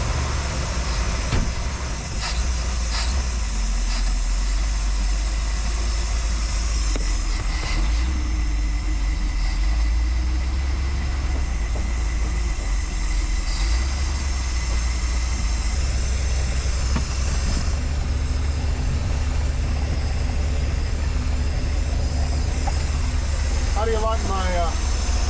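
The engine of an ancient RV runs steadily on a test drive, a continuous loud low rumble with road and rattling noise throughout, while people talk over it.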